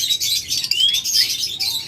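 Budgerigars, a per blue opaline pair, keep up a dense stream of high chirps and warbles, loud and near, with quick rising squeaks and no people talking.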